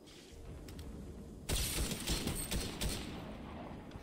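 AK assault rifle gunfire in Fortnite, a burst of rapid sharp shots starting abruptly after a quieter stretch, loud and close, with a few more cracks trailing off, no speech.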